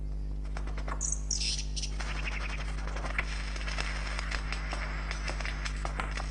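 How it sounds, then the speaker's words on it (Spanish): Lyrebird clan calls: varied bird calls and chirps ring out over a steady low hum, with a bright whistled phrase early and scattered sharp clicks throughout, in a rainforest. "Estas llamadas de clan han pasado de una generación de aves lira a otra"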